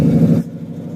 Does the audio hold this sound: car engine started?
yes